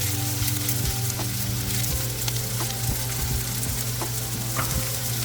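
Long beans stir-fry in an oiled pan for a Kerala-style mezhukkupuratti, a steady, loud, close crackling sizzle with scattered pops throughout.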